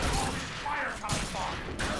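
Dense, rapid gunfire from enemies in The Darkness 2 crackles steadily throughout the short clip, with muffled bursts under a busy game soundscape.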